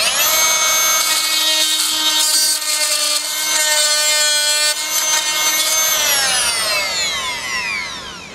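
A Fein Multimaster oscillating tool cuts timber in a loud, steady buzzing drone that runs for about six seconds, then winds down as the blade slows, with no talking.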